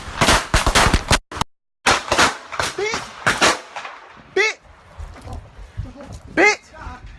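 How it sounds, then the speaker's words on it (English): Several sharp pistol gunshots crack out in a quick burst early on, loud and close, followed by shouting and excited voices over outdoor noise. "Minutes later, gunshots can be heard ringing out into the air."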